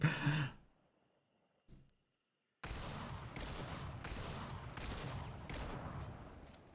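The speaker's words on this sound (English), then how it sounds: "the Terminus can use levering, and it is working quite well with the Dragon Breath on it." After a short vocal breath and near-silence, a Terminus shotgun loaded with Dragon Breath rounds in a video game erupts into a loud, sustained burst of fiery blasts, with a few sharper shots in the roaring stream.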